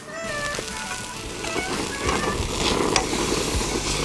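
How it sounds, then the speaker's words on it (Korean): Beef searing in a very hot pan gives a steady, dense sizzle that grows a little louder toward the end. A few brief tonal clinks sound alongside it, and nobody speaks. "팬이 굉장히 뜨거운 상태에서 구워주는 게 중요해요"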